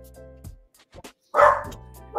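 Small dogs bark indoors in a short, close burst, with a few lighter yips before it and a louder bark near the end.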